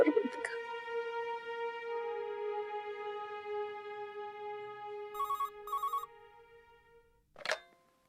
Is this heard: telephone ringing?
yes